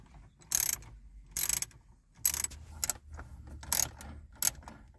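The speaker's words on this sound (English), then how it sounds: "you need a long extension on your socket wrench because it's pretty deep in there" Socket wrench on a long extension working 10mm nuts loose from a stereo mount deep inside a Gen 3 Toyota Prius dash, giving four or five short, close metallic ratcheting bursts separated by quiet pauses.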